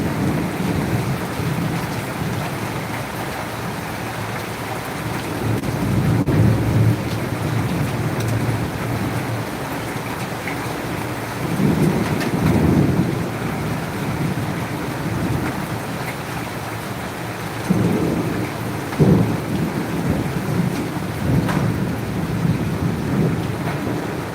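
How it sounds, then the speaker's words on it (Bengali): Heavy rain pours down steadily in Bangladesh, with deep thunder rumbling through the downpour several times. The storm is loud and close, and no voices are heard. "অসাধারণ একটা বৃষ্টি"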